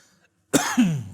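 A single sharp cough followed by a throat-clearing rasp, close and fairly loud, after a moment of near silence.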